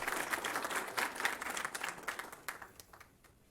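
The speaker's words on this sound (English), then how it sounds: "Round of applause." Applause from an audience at a board of education meeting, a steady patter of many hands clapping that thins out and fades toward the end.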